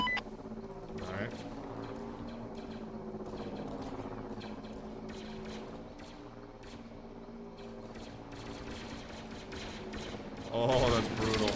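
Rapid turret fire in Arma 3 during a Star Wars themed mission, dense bursts of shots and mechanical rattling under steady talking, with a louder burst near the end.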